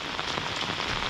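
Heavy rain pours down steadily in a dense, even hiss of drops beating on surfaces, loud and close with no voices.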